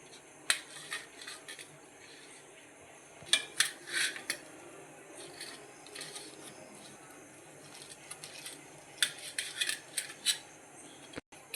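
Knife cutting a fried egg bajji in half, a series of sharp metallic clicks and taps against a plate or pan, sparse and close, spread out over quiet kitchen background.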